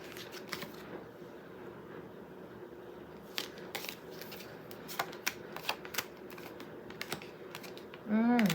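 Tarot cards shuffled and drawn at a reading table, a run of crisp riffling and snapping card sounds in uneven bursts, close and clear, with a brief soft voice near the end.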